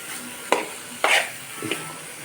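Boiled, cleaned snails tipped into a pan for a snail and raw chana dal curry, giving three short scraping, sizzling stirs spaced about half a second apart, close and moderately loud, with no talking.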